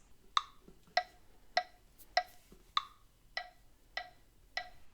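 A sharp, clicking percussion beat ticks steadily in 4/4 time, eight evenly spaced hits with alternating accents, played alone and fairly quiet.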